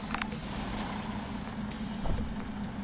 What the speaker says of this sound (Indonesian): Nyalakan mesin.